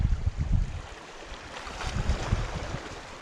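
A Patchinko 140 surface lure works across calm water, giving a steady run of soft splashing and gurgling as it is retrieved, moderately close with a wash of water noise and no voices.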